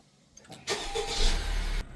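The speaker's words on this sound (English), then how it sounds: "Now we're going to start the car" A 2020 Honda CR-V engine cranks and catches after a quiet moment, settling into a steady close idle with a low rumble; no one speaks.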